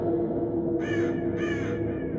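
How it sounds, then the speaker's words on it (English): Two harsh, croaking raven calls from a video game ring out in succession over a steady low droning background. "A raven is triggered now."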